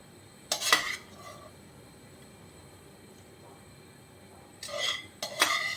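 Vegetables being added to a pot and stirred while cooking veg pulao with paneer; a few brief metallic clatters of a utensil against the pot come at the start and near the end, separated by a quiet stretch.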